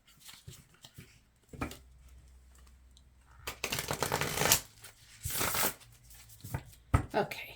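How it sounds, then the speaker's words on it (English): Crisp riffling and flicking of tarot cards being shuffled close by in several bursts, with soft handling noises in between. "I'm going to shuffle this."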